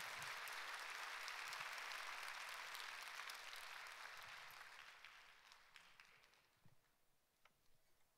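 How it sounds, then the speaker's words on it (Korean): A church congregation at a Sunday worship service applauds to welcome the pastor. Dense, steady clapping fills the room at first, then gradually thins and fades over several seconds. "우리 목사님 나오실 때 한번 뜨겁게 우리 한번 박수로 우리 환영하도록 하겠습니다"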